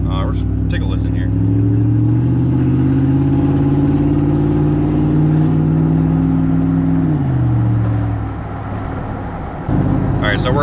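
Chevy Silverado 1500 with a 5.3 Vortec V8 and axle-dump exhaust, driving in second gear with a deep, steady rumbling drone that swells, then drops off as the truck eases off, with brief voices at the start and end.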